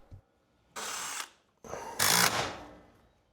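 A power driver sinks lag screws into a garage door's H-frame in two close, loud whirring bursts, the second longer and rising in pitch, with a quiet pause between them.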